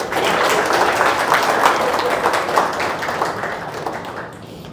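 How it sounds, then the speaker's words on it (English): A round of applause at the close of a beginner coding session, a small group clapping steadily and fairly close, fading slightly near the end. "Round of applause, guys."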